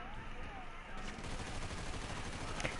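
Rapid automatic gunfire from a fast-firing modded gun in a PS4 video game, a dense unbroken rattle of shots running loud and steady through the whole stretch.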